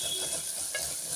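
Spinach, fenugreek and other vegetables are stir-fried in a clay pot, giving a steady, soft hiss with faint stirring scrapes over a brief moment, with no voices present.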